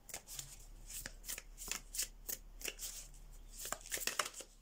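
A deck of tarot cards is shuffled close up, making quick riffling bursts of papery flicks in an uneven rhythm, soft and alone with no talk.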